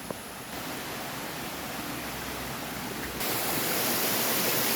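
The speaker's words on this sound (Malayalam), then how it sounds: "ഇതാട്ടോ ഞാനാ പറഞ്ഞ സർപ്രൈസ് മനോഹരമായ വെള്ളച്ചാട്ടം" A small waterfall on a village stream pours in a steady, full wash of rushing water, close and continuous, growing slightly louder toward the end with no voices.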